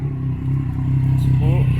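A supermoto motorcycle engine idles close by with a steady, loud low rumble that rises slightly toward the end, with someone talking over it.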